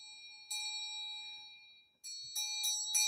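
A Tibetan ritual bell, held with a dorje, rings with clear sustained metallic tones, one strike lingering and fading before several quick struck rings follow, fairly faint and with no voices.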